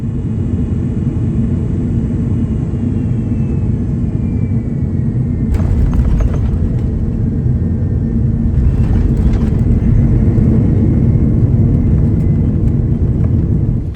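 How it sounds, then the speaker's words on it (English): Steady, heavy rumble and hiss fill a Malaysia Airlines Airbus A330 cabin on approach and landing, with a faint whine shifting in pitch and a couple of brief mechanical clunks partway through, no talk. "enjoy the approach and landing"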